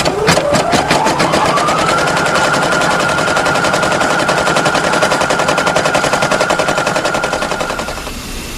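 Embroidery machine stitching, a loud, rapid, evenly repeating mechanical clatter with a rising whine at the start, running continuously before easing slightly at the end.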